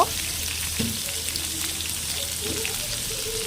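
Mango pieces for a Bengali mango chutney frying in a pan, a continuous close sizzle with a few light stirring scrapes and clinks, no speech.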